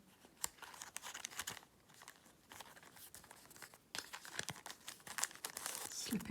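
Empty plastic bags for diamond painting kit storage crinkle and rustle softly and close by as a card is slipped into them, in irregular bursts of crackling handling.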